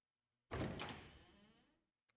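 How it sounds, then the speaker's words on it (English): A door in the visual novel game Tsukihime shuts with a single sharp thunk that rings out briefly and fades. A tiny click follows after a short silence, and nothing else is heard. "Faintly, I can make out the click of the door."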